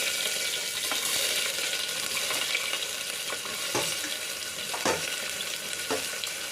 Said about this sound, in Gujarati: ડુંગળી ગુલાબી રંગની થાય ને ત્યાં સુધી સાંતળવા દેવાનું